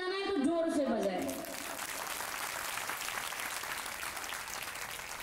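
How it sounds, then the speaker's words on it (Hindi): A voice speaks briefly over a loudspeaker, then an audience at a religious gathering for a Maharaj's weighing ceremony breaks into steady, moderately distant applause that continues to the end. "देखिए महाराज जी के लिए ताली बजाना है तो जोर से बजाए।"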